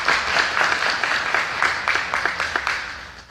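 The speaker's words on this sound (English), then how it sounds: "So give yourselves an applause." Audience applause at an AmeriCorps swearing-in ceremony, a steady crowd of hands clapping loudly and densely throughout with no one talking over it.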